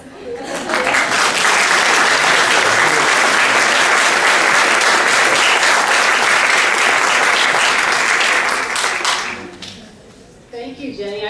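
At a nursing school white coat ceremony, an audience bursts into loud, sustained applause for about nine seconds before it fades out, then a voice begins speaking.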